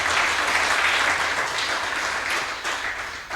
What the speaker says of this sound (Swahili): Tupigie Yesu makofi mazuri.